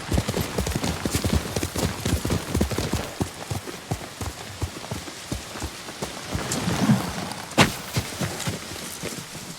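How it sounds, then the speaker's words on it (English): Rapid clip-clopping hooves of a horse gallop steadily in the video game Ghost of Tsushima, mixed with patter like rain, with a sharper thud near the end. "Good horse, Kage."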